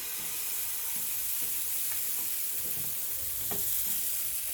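Rice-flour batter for Patishapta Pitha sizzles on a ghee-greased pan, a steady close hiss with faint scraping as it spreads.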